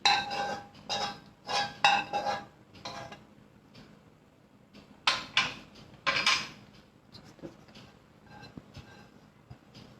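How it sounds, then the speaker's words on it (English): Sautéed vegetables spooned out of a pan at home, with bright metallic scrapes and clinks of a spoon on cookware in bursts, louder early and thinning to faint taps later. "And I'm taking out my saute veg also."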